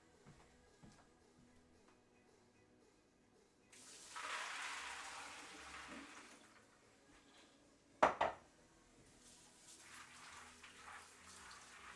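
A long-soaked bowl rinsed under running water, a hiss of flow for a few seconds, then a sharp clunk of the bowl against the sink and more water running, all faint.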